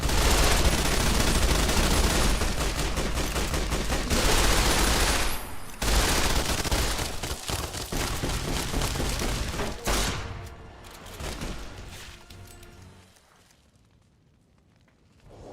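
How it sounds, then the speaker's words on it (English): Heavy, sustained gunfire from a Fallout: New Vegas firefight: dense overlapping bursts and loud explosive blasts continue for about ten seconds, then thin out and fade to near quiet toward the end. "Who's shooting at me?"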